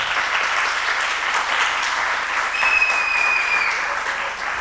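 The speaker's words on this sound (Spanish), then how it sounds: "por favor, un aplauso muy grande" An audience at a panel talk applauds steadily throughout, a dense wash of clapping with a brief high whistle cutting through near the middle.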